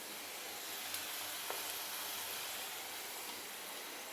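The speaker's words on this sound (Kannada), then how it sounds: "ನಾನೇ ಇದನ್ನು ಫ್ರೈ ಮಾಡ್ತಾಯಿದ್ದೀನಿ." Onion pakoda sizzles as it fries in hot oil on a home stove, a steady soft hiss with faint crackles and a few small pops, heard alone without voices.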